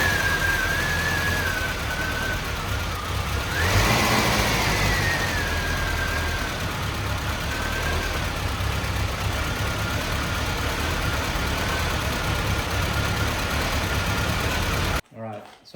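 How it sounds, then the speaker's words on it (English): Rough, fluctuating idle from a Mitsubishi Pajero engine fitted with a Weber carburetor, a steady close mechanical drone that wavers in pitch and briefly surges partway through before cutting off near the end. "since our idle is so rough and it's fluctuating, I'm thinking maybe the idle valve or something is clogged in the carb"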